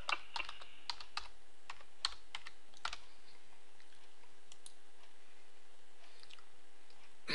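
Quick, light keystrokes on a computer keyboard while logging in to an account, a brisk cluster of clicks at first, then sparse taps fading toward quiet, close and alone.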